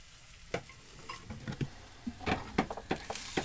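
Breakfast sizzles in a frying pan aboard a sailboat, a steady close hiss with irregular scraping and tapping as a utensil stirs the food around.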